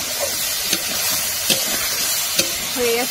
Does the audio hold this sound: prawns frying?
yes